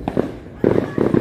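New Year fireworks bursting in a few loud, short blasts, with a quieter gap before two closer rounds of crackling booms.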